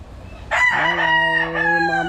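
A bullstag rooster crows loudly and close by, one long sustained cock-a-doodle-doo with a strong harmonic call, heard alone without talk.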